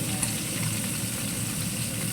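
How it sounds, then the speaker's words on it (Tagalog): Fish sizzles in a frying pan with a steady, crackling hiss of hot oil. It sounds close and continuous, with no speech. "Ako yung nagpiprito ng aking ulam."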